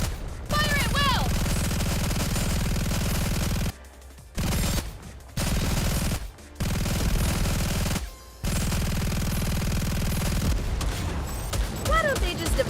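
Sustained automatic gunfire in Nikke roars loud and continuous, broken by a few short pauses between long bursts, with game sound effects and voices mixed in.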